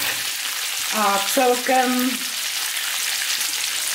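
Pork neck (krkovice) fries in a pan with a loud, steady sizzle that runs throughout, while a person speaks briefly in the middle.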